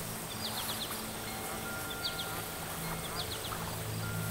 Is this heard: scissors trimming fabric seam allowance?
no